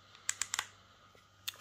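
Adjustment lever on a VGR V682 hair clipper clicking through its positions, a few sharp close plastic clicks in a quick series with a pause, then one more.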